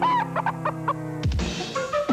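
A chicken clucks in a 1990s TV beer commercial for Bud Dry, a few short clucks near and loud over a musical jingle background, followed by a louder sweep of sound.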